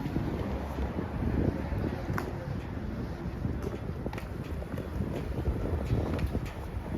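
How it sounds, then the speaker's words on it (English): Wind buffeting a microphone outdoors on a street in Queens, New York City, the day after Christmas, a steady broadband rumble with gusty swells and faint city sounds beneath. "Hung Mouse, it sounds windy."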